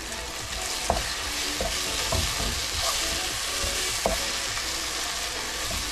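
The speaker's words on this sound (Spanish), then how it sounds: "Y ahí le dejamos hasta que el tomate esté bien, bien, bien, bien frito, ya que suelte todo su juguito" Tomatoes fry steadily in a pan, giving a continuous close sizzle with a few soft stirring clicks, no voices over it.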